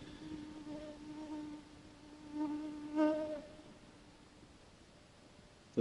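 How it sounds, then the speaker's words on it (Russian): Mosquitoes whine and buzz close to the ear on a riverbank, a thin steady drone that swells louder twice as insects fly past, then fades back to a faint hum. "Такое ощущение, что комары чуть-чуть рассасываются."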